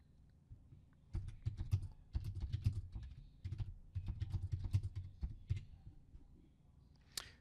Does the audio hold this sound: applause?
no